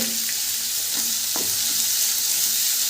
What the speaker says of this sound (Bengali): এবার লো টু মিডিয়াম ফ্লেম করে এগুলোকে ভেজে নিতে হবে